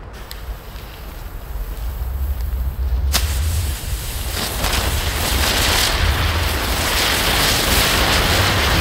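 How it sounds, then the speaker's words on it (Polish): Triplex ground spinner fireworks set off on a tray, giving a sustained loud hissing, crackling roar after a sharp pop near the start, with wind noise over the microphone. "To były bączki! Na takiej tacce! Z Triplexa nowość!"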